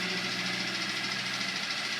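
A Coleman 5hp outboard boat motor runs steadily with an odd rattling noise, a continuous close drone with a dense buzzy texture and no pauses.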